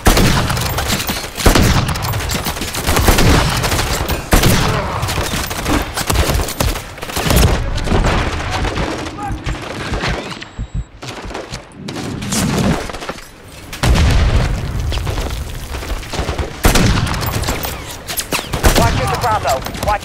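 Dense, loud bursts of automatic gunfire and explosions from the Call of Duty Modern Warfare 3 HighRise mission, continuous volleys broken by a brief lull, with radio voices talking in between.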